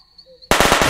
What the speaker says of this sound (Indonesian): jangan main petasan di sini dong